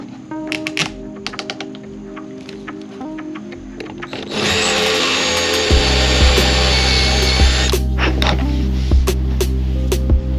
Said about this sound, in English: we're gonna drill the pocket screws in this back ledge